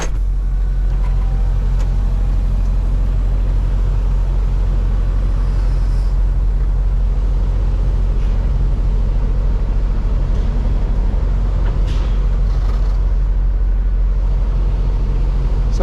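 A semi truck's engine runs with a steady, loud, low rumble while the driver slides its tandem axles. There are no distinct clunks or talk.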